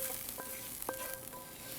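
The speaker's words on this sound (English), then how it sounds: "I'm gonna add some garlic to the pan." Garlic sizzling in a hot frying pan while fish burgers are made, a steady crackling hiss with scattered small pops, close and continuous.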